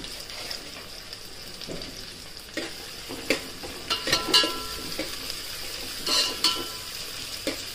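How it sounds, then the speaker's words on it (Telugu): Caraway seeds frying in hot oil in a pan for chicken mandi, a steady close sizzle with a few light scrapes and clinks of a spoon against the pot. "ఇందులోనే కొంచెం సాజీరా వేసేసుకోండి"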